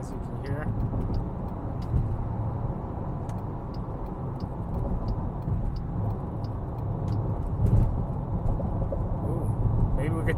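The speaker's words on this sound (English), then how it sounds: "Motor sounds pretty good in sport mode, as you can hear." A 2026 Jeep Grand Cherokee Summit in sport mode gives a steady engine drone from inside the cabin, a low continuous rumble with a slight swell near the end and no talk over it.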